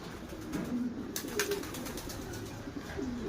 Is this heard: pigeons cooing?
yes